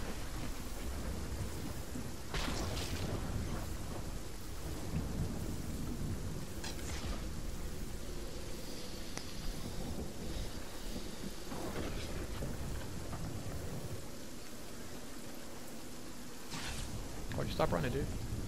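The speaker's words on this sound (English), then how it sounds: "Spend the entire game just trying to get out of the freaking storm." Storm weather in the video game Fortnite gives a steady rumbling wash of rain and thunder-like noise, continuous and moderately loud, with occasional sharper crackles on top.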